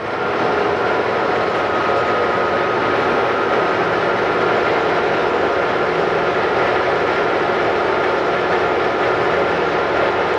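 A Monarch 21 x 54 HD toolroom lathe runs at 700 RPM while feeding a cut, giving a steady, loud, even mechanical hum and whir with no pauses and no talk.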